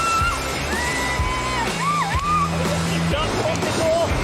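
A family screams, whoops and shouts together while driving fish into a net on a Cook Islands reef, loud overlapping yells over constant wind and surf noise.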